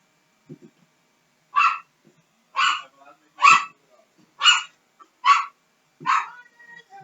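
A dog indoors at home barks six times, sharp and close, at a steady pace about a second apart. Faint low sounds fill the gaps between the barks.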